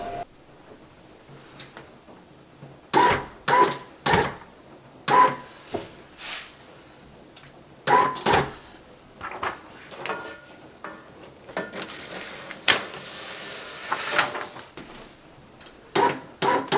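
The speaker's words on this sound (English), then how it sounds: "Now it's going to load and then it'll print on the printer" A Procolored L1800 DTF printer prints a transfer, giving off a run of intermittent mechanical clunks, clicks and short whirs from the print carriage and feed, spaced irregularly over a quiet background.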